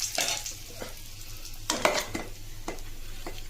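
Bay leaves and garam masala fry in hot oil in a pan for a thin potato curry, giving a close, crackling sizzle punctuated by several sharp stirring scrapes.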